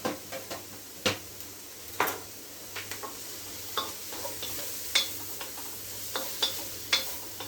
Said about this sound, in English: just give it a stir so that the heat moves around the pan and gets everywhere.